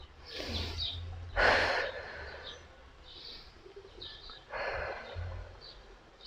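Slow, relaxed breaths are demonstrated as a pregnancy breathing exercise: three or four soft airy inhales and exhales spaced a second or two apart, close and quiet with a faint background.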